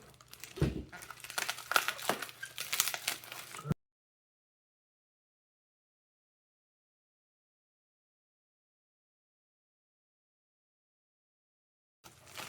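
Packaging on the box of a BlitzRCWorks Mini F-22 Raptor V2 three-channel RC plane is cut open, giving a few seconds of close crinkling and rustling plastic before it falls to silence.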